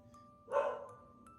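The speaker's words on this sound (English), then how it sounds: "What are they barking at now?" A single short dog bark, faint and at some distance, in an otherwise quiet outdoor setting.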